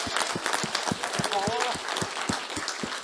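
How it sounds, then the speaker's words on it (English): A panel discussion audience at a Dalit film festival in New York applauds steadily, with dense clapping and a few sharp louder claps, while a voice talks over it. "Ladies and gentlemen, let's give them a round of applause."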